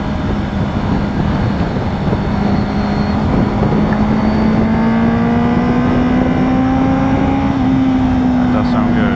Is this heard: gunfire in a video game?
no